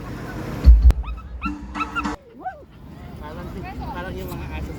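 Dogs bark sharply a few times and then whimper and yip, mixed with people talking and shouting nearby in a crowd on Fleet Street at the Makati circuit.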